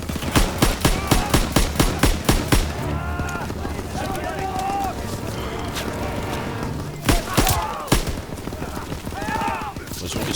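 Rapid machine gun bursts in Call of Duty WW2 rattle loudly at close range, followed by scattered shots and more bursts, with shouting voices in the mix of the battle.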